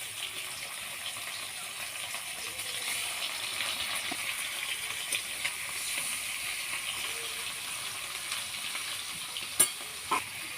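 Fish fries in hot oil in a kadai for a Bengali fish curry with papaya, making a continuous even sizzle with a few sharper pops and spatula clicks toward the end, close and without talk.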